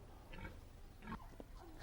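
Pig on a farm grunting and oinking in several short, soft snorts, close but quiet, over a steady background hum.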